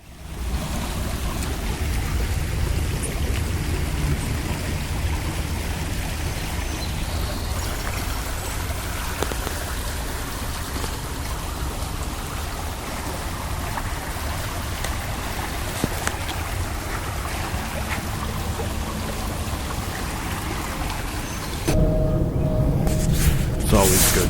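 A creek flows through a city park in Toronto, a constant broadband rush of moving water heard close and loud throughout, with a louder, rougher wind-like burst near the end.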